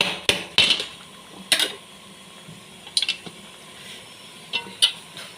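A metal idli steamer plate is tapped to loosen cooked idlis, giving several sharp separate clinks and knocks spaced irregularly, close and fairly loud over a faint background hiss.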